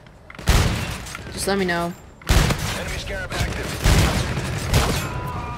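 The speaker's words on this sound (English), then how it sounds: "some sniping, kind of like what I'm doing right here on Infinite Warfare" Gunfire from sniping in Call of Duty: Infinite Warfare comes as a few sharp, loud booming shots with heavy reverberation, set against game sounds while someone talks over them.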